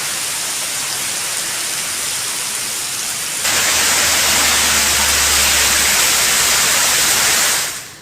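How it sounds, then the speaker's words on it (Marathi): Heavy rain comes down as a dense, unbroken hiss that grows louder partway through, holds strongly, then cuts away at the very end. "परिसरामध्ये जोरदार पाऊस झालेला आहे"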